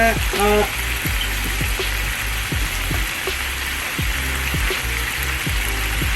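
Tandoori chicken fries in hot oil, a continuous sizzle with rhythmic clatter and thumps of cooking, a voice speaking faintly at times.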